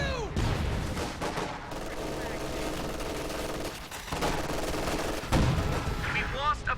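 Sustained gunfire from a fighting position in a war strategy game, with rapid bursts and booms over steady battle noise, dense and continuous at moderate distance.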